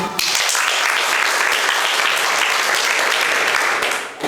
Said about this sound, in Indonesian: Okay, give applause to him.